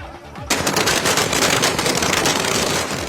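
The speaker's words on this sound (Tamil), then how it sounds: "பட்டாசுகளை வெடித்து கொண்டாட்டத்தில் ஈடுபட்டனர்" Firecrackers burst in a dense, rapid crackling string at a street celebration in Cuddalore, a loud volley of sharp pops that starts abruptly after a moment of quieter background and keeps going without a break.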